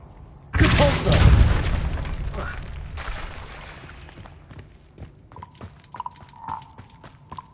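A Depulso spell cast in Hogwarts Legacy bursts out as a loud booming whoosh, trailing into crackling debris and rumble, followed by several lighter rhythmic taps and chimes.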